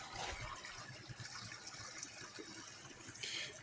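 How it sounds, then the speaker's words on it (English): Water flowing beneath thawing pond ice in early March, a steady, faint rushing gurgle that continues unbroken with no voices. "You can sure hear the water flowing underneath there."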